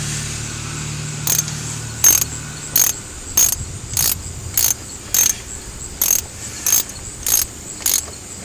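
A metal ratchet tool clicks in quick bursts while retightening a car battery hold-down, about ten close, loud ratcheting strokes in a steady rhythm with no talk.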